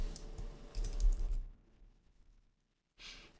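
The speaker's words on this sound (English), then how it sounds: "I'm going to punch in my password" Quick clattering keystrokes on a computer keyboard for about a second and a half during password entry, then near silence, then a brief final burst of key noise.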